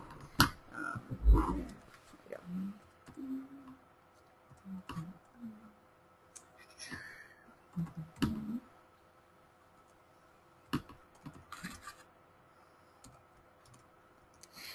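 Intermittent clicking and tapping on a computer keyboard in a quiet room, with short bursts of keystrokes separated by pauses and some faint background voice.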